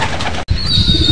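Racing pigeons in a loft make a steady bed of flapping wings and soft cooing, close and fairly loud, with one abrupt break partway through.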